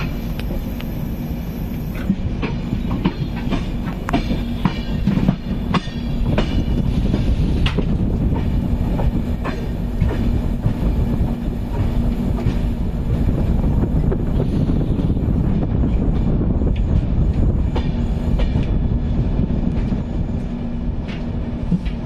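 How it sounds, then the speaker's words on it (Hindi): A Konkan Railway train runs near Ratnagiri, a loud continuous rumble of wheels on track with rhythmic clicks and wind buffeting throughout, no talking. "हम आ रहे हैं रत्नागिरी में, कोंकण रेलवे रत्नागिरी।"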